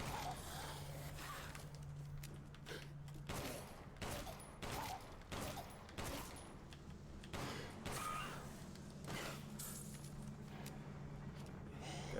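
A quick string of sharp gunshots in the horror video game Resident Evil Village, irregular and punchy, over a steady low game hum and ambience.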